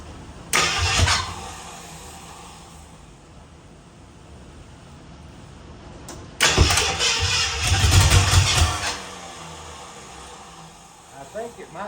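An abandoned Ford Bronco, last run 16 years earlier, is cranked in two bursts. A brief grinding crank comes first, then a longer loud stretch of cranking and rough, sputtering firing. A quieter lull with voices in the background separates the two.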